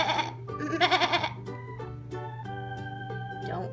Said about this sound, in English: Here comes the goat.